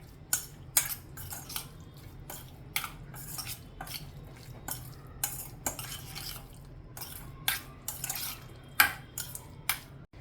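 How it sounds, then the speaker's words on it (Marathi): Prawns being mixed with a spoonful of ginger-garlic paste, a utensil scraping and clinking against a bowl in irregular bursts of close clatter, with no talk. "आता आपण हे सर्व प्रथम थोडंसं हे चांगलं मिक्स करून घेणार आहोत"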